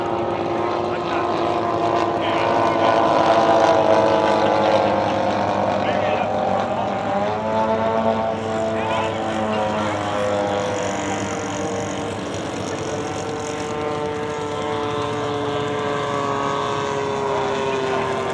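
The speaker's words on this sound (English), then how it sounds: "Did a touch and go with that one." A propeller airplane at the Fox Valley Aero Club air show makes a touch and go, its engine droning steadily with a shifting, rising and falling pitch at middle distance while people talk nearby.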